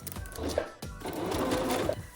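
A sewing machine stitching elastic figure skating gloves, running in two steady bursts with a short pause between, its rapid mechanical needle clatter close and continuous.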